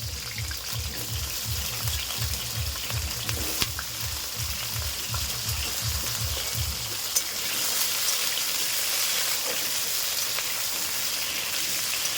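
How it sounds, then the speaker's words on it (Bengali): Potatoes sizzle in oil in a hot wok, a steady close crackling hiss that runs throughout, with a rhythmic low thumping under the first half. "কড়াই গরম হয়ে গেছে আলুগুলো ভেজে নেবো"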